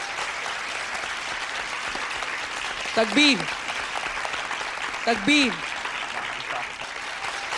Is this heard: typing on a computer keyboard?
no